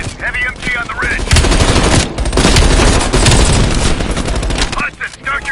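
Heavy machine gun fire rattles in a video game battle, loud sustained bursts of rapid automatic shots with dense gunfire, with brief voices underneath.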